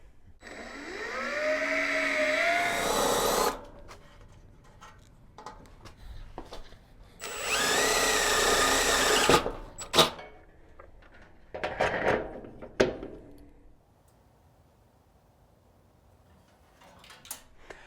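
A power drill whirs in two sustained bursts, its pitch winding up, followed by scattered knocks and clanks of metal work nearby.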